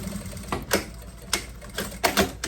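Sewing machine stitching a seam on a fabric double wine bottle holder, heard as several short bursts of stitching separated by brief pauses, fairly close.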